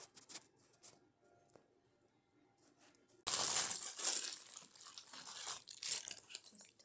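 Christmas decorations being unwrapped, paper and wrapping crinkling and tearing loudly and close by for the second half, after a quiet start with faint handling noises.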